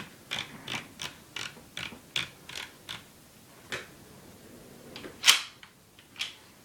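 Mossberg .410 shotgun parts being tightened during reassembly, giving a regular run of close, crisp ratcheting clicks followed by one louder sharp snap and a last click, with no talking.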